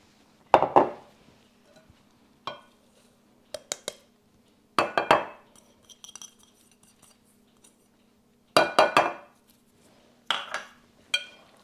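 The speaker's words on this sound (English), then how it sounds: "We're just going to stir this in, not mix it with the mixer." Shredded unsweetened coconut stirred by hand into thin coconut cookie dough in a bowl: several separate bursts of scraping and clinking of utensil against dish, close and fairly soft, with quiet gaps between.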